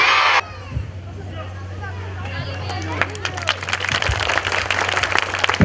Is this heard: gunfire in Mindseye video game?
no